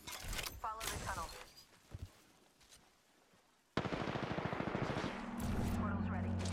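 Video game firefight with a voice talking at first, then after a quiet stretch sudden rapid automatic gunfire erupts up close, continuous loud bursts joined by a low sustained tone near the end.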